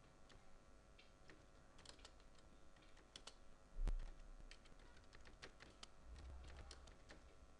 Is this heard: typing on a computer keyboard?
yes